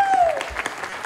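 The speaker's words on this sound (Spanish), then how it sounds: "1, 2 y 3, aplauso arriba" Audience clapping in unison at a concert by a Spanish group during their 2022 tour, a brief burst of dense, steady applause with a faint voice under it.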